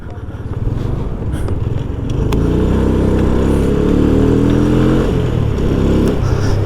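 A Kuba Cup 100 motorcycle rides through city streets, its small engine humming loudly and steadily, rising into a revving buzz as it accelerates and holds speed, close to the rider, with no talk.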